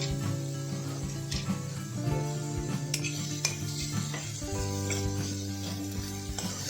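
Grated raw mango (kairi) roasting in desi ghee while being stirred with a utensil, with soft scraping and clinks against the pan over a low steady tone, continuous and fairly quiet with no talking.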